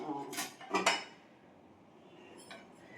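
Kitchen clatter while potatoes are being cut: a couple of sharp clinks and knocks of a knife and utensils, then a quiet stretch with one faint tap near the end.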